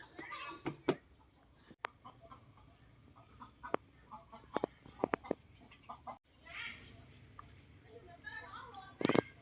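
Chickens cluck in short scattered bursts nearby on a melon farm in Sakon Nakhon, Thailand, with a few sharper calls standing out over a quiet outdoor background; a faint voice murmurs at times.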